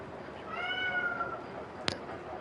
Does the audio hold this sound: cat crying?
yes